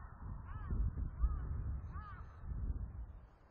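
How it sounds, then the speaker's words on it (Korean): A crow caws a few times on a spring grassland on the mid-slopes of Hallasan, Jeju, the calls faint and distant over a low, steady rumble of wind and ambient noise. "까마귀의 등장이다"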